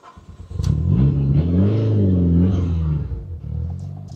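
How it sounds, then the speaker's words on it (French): A Mitsubishi Lancer Evo 8 with an Exedy twin-disc clutch and a noisy flywheel revs and drones loudly while driving, a rising and falling mechanical whine, steady for a few seconds before easing off. "Le volant moteur fait du bruit à mort"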